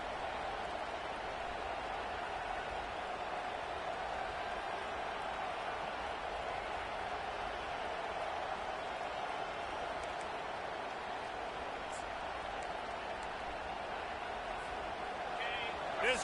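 Steady roar of a stadium crowd at an LSU vs Alabama college football game, a dense, continuous wash of noise with no breaks, heard from within the stands.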